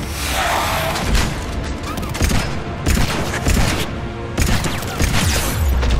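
Rapid pistol fire and impacts in the video game Mass Effect 3 during the Omega DLC ending fight: dense, loud bursts of shots and booms with brief gaps, layered over busy combat noise.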